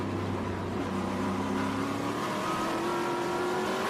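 A Hawk TA2 race car at Sebring roars steadily from onboard, its engine pitch dropping under heavy braking and then climbing smoothly again as it accelerates, loud and continuous throughout.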